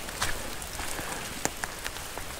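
Heavy rain falls on a wild camping area in sodden ground, a steady close hiss with scattered sharper drops tapping on a nearby surface, no talking.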